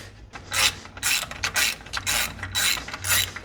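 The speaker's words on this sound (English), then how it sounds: "Next, I'm going to remove the alternator bracket off of the thermostat housing." A ratchet wrench clicks in quick, repeated strokes while loosening a 10mm bolt on an alternator bracket mounted to the thermostat housing of a 12-valve first-generation Cummins diesel, close and clear with no talking.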